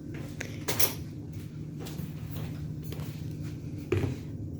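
Cutlery clinks quietly in a kitchen while a fresh spoon is fetched during berry sorbet making, a few sharp metallic taps and a drawer-like rattle spaced over a few seconds against a low steady hum.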